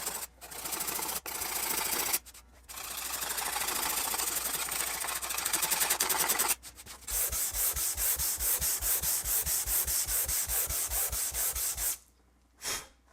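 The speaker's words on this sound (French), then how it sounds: "après avoir raclé et poncé la marqueterie" Wooden marquetry being sanded after scraping, loud close rasping bursts with short pauses between, the last long stretch buzzing with a fast regular machine pulse.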